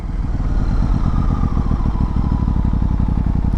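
A new motorcycle's engine pulses loudly and close with a rapid, steady firing rhythm as the rider works the gearbox, pitch creeping upward while picking up speed.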